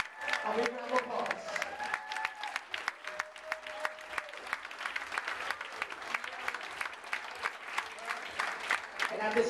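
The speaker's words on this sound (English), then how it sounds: "Let's give them all 3 a big round of applause." Wedding guests applaud at a reception venue, a steady wash of clapping hands with some cheering that runs throughout, fairly close and loud.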